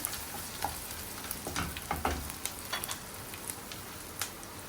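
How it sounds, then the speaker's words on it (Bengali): Green chillies frying with onions in a pan, a continuous crackling sizzle with frequent small pops and spits, close and fairly soft, with no voices. "আমি দু তিনটা কাঁচামরিচ দিয়ে দিলাম কাঁচামরিচ ভাজা"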